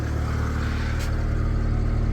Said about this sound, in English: So I just started it up so you can listen to it running.